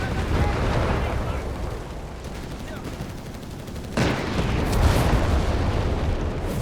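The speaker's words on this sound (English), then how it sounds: "a bit of artillery here right outside the entrance of the base here" Artillery shelling outside a base entrance in the strategy video game Company of Heroes 3, a dense rumble of booms and gunfire with a sharp fresh blast partway through, beneath a commentator's voice.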